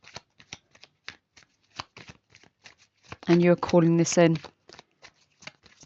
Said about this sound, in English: I'm just going to shuffle the cards